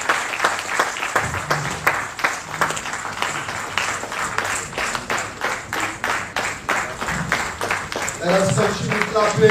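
An audience at an International Youth Day celebration claps in uneven, rhythmic bursts, with voices rising over the clapping toward the end.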